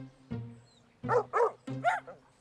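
Cartoon dogs bark in a few separate bursts, a single yap followed by a run of three or four close barks, loud and near with no talk.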